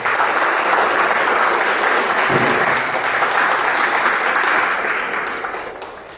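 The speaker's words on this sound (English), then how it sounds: "Can I have a round of applause for all of you?" An audience at a Toastmasters club meeting applauds steadily, a dense, even wash of many hands clapping together for several seconds before the sound gradually tapers off toward the end.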